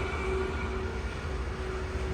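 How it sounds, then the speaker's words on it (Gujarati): A steady low rumble of a passing Indian Railways diesel goods train, continuous heavy rolling noise with a faint tonal whine, moderately loud and close. "ઇન્ડિયન રેલવે માલગાડી જાય હા માલગાડી"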